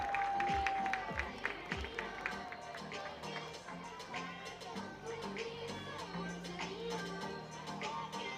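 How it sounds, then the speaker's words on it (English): Fans at an Iowa vs Ohio State softball game give a round of applause. Steady, fairly faint clapping spreads across the stands for several seconds, mixed with scattered crowd noise and a few distant voices. "Let's give him a round of applause."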